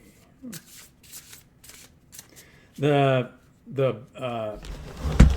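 Tarot cards are shuffled in a few quick soft riffles and taps, close and fairly quiet, with a person speaking in between.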